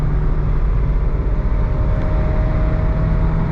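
Steady, loud engine drone and road noise inside a Honda car cruising at highway speed under hard acceleration, a constant low rumble without any talk.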